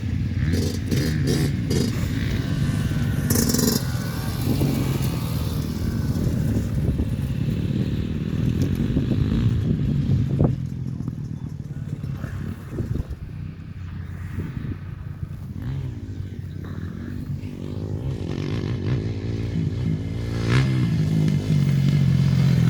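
Yamaha YZ motocross motorcycle out on a dirt track, engine revving and bogging as it rides, with clattering and scraping from the track, fairly distant and steady throughout.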